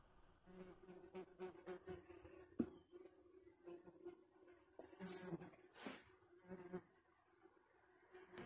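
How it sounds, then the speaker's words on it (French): Dozens of ground wasps buzz and whir around a nest, their wingbeats passing close in fluctuating, overlapping drones, with a sharp knock partway through. "là on a au moins une cinquantaine de guêpes qui tournent"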